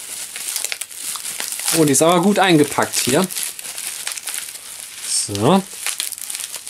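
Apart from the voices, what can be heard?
unwrapping a well-packed graphics card from its packaging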